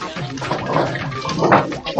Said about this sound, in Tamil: எப்பா கொஞ்சம் தண்ணி ஊத்துப்பா